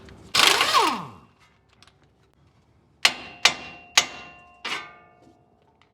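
A ratchet fitted with a 21mm socket loosens the tie rod nut on a Ford steering knuckle. A loud clattering burst comes first, then four sharp, separate clicks close by, with no talk.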